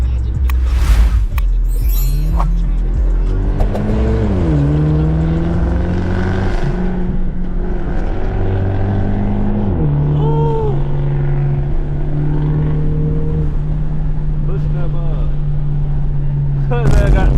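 A Volkswagen car engine at a car meet in Germany revs repeatedly, loud and close, its droning pitch climbing and falling in several long pulls, while people talk over it.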